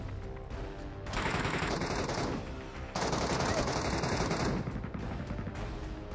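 Rapid shotgun blasts from a fast-firing magical shotgun in the PUBG Mobile Metro Royale game, coming in two dense loud bursts of repeated shots with no talk over them.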